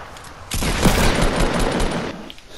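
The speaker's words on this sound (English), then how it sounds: "Stop shooting my boy." Rapid bursts of automatic gunfire crackle through a Fortnite battle royale match, a dense, loud fusillade lasting over a second before tapering into quieter background game noise.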